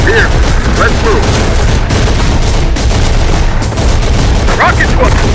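Enemy gunfire and launcher blasts in the video game Terminator Dark Fate Defiance: a dense, loud, unbroken volley of rapid shots and thuds, with short game voice chatter cutting in now and then.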